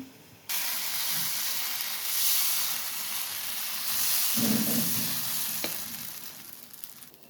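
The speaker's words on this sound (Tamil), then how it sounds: "இதை எடுத்து இப்போ நம்ம தோசைக்கல்லில் ஊற்றிக்கலாம்" Dosa batter sizzles and hisses on a hot griddle with ghee while making vatlappam, a steady frying crackle that swells as batter spreads, with a soft clink partway through.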